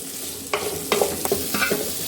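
Spice masala with green and red chilies roasting in a pan, several distinct stirring scrapes over a steady dry sizzle, close and clear, no voices.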